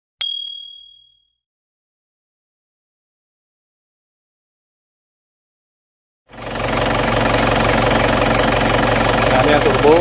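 An Isuzu Panther 2.5 turbo diesel engine idles steadily and close by with a low, even rumble; a brief ding rings out first, followed by several seconds of silence before the engine starts up.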